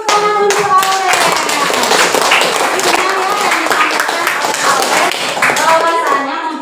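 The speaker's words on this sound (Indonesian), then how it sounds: "tepuk tangan untuk Aurelia" Classroom applause for a student named Aurelia, a burst of many hands clapping steadily throughout, mixed with voices talking over it.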